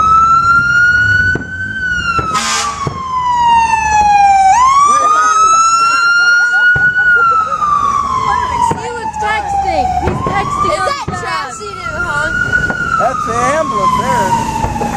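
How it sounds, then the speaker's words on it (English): A loud wailing ambulance siren sweeps up and down continuously, close by, at a veterans home in Quincy, Illinois, with traffic noise underneath and brief voices in the background. "Oh, that's an ambulance."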